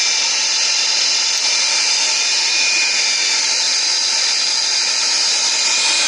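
An internal grinder runs steadily at a loud level for the whole stretch, giving a continuous high whine and hiss with no pauses or changes in pitch.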